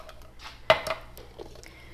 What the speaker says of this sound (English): And now I'm going to put ice in my glass.